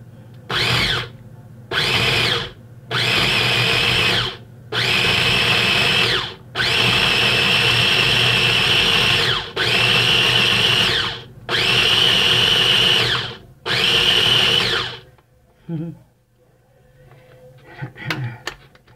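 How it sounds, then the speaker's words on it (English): A small Cuisinart food processor whirs loudly in a series of short pulses separated by brief pauses, then falls quiet with faint clatter at the end. "This little Cuisinart is the best kitchen tool I've ever had."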